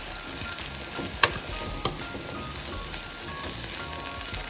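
Tomato and brinjal sauté together in a pan as a side dish, giving a soft, even frying hiss with a few faint stirring taps and no voices.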